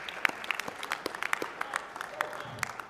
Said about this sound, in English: Let's get a round of applause, please, for Michael Buffer.